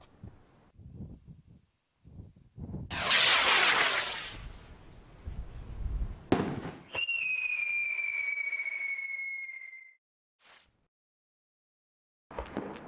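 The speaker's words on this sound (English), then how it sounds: "The rocket behaves exactly as planned, right down to the screamers." Firework rocket with screamers: a whooshing launch, sharp bangs, then a long shrill whistling scream that fades before a final crack, heard outdoors with no talking.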